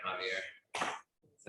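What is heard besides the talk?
sneeze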